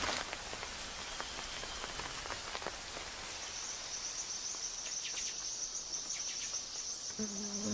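A light rain patters steadily on rainforest leaves while insects buzz and trill continuously, with a high, sustained cricket-like drone joining partway through.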